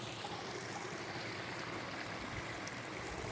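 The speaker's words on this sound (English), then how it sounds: "There we are. The top of the waterfall." Steady broadband rush of water at the top of Philomène Waterfall, a continuous roar heard from near the edge with no talk over it.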